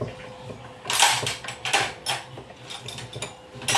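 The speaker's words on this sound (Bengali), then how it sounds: "এই ছোটো সাইজের সকেট দিয়ে আমরা এটাকে টাইট দিয়ে দিচ্ছি।" A socket wrench tightens a nut on a water pump motor, making a quick run of metallic ratcheting clicks in short bursts, close and fairly clear with no talk.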